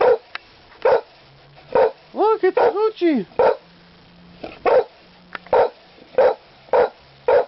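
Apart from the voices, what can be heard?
dog barking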